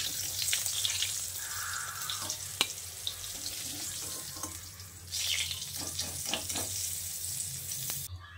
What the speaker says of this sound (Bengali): পটল ভেজে তুলে নেওয়ার পর ওই তেলে এবার আমি আলুগুলোকে ভেজে নিচ্ছি।